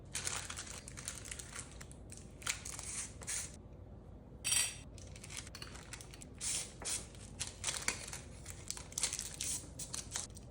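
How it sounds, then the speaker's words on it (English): Natural wax paper crinkles and rustles in irregular bursts as it is fitted between a jar lid and a jar, close and fairly quiet, with short pauses between handlings and no speech. "I always like to place a little bit of natural wax paper between the lid and the jar"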